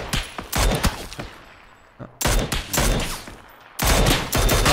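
Rapid volleys of video game gunfire crack out in three dense clusters of shots, loud and close, with short pauses between them.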